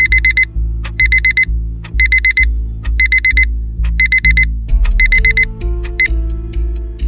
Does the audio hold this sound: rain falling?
no